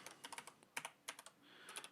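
Quiet keystrokes on a computer keyboard tap out in quick irregular bursts while an email address is entered, close and soft with no speech.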